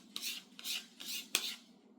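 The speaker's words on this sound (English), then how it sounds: "so now we're going to scrape all the icing" Spatula scraping chocolate icing from a mixing bowl for a Hershey Swiss chocolate cake, four soft rasping strokes in a steady rhythm, close and fairly quiet, with no talking.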